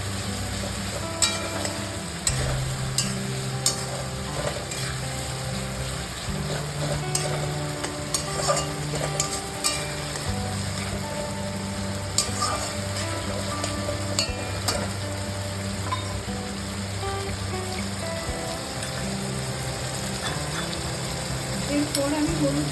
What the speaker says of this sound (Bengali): আদা বাটা রসুন বাটা পেস্টটা দিয়ে দিলাম। দিয়ে আবারও একটু নাড়াচাড়া করে দেবো।